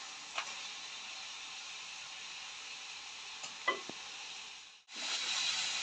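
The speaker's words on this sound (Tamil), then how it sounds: "பாருங்க நண்டு நல்லா சிவந்து வேகிட்டு வருது. இன்னும் கொஞ்சம் எண்ணெயில் இருந்து நல்லாவே வேகட்டும்." Crab pieces fry in oil for a Jaffna-style crab curry, a quiet steady sizzle with a few sharp pops and crackles. The sound briefly drops out near the end, then returns slightly louder.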